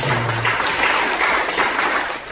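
Congregation applauding in a church service, a dense wash of clapping filling the room steadily for a couple of seconds, fairly loud and close, with no speech over it.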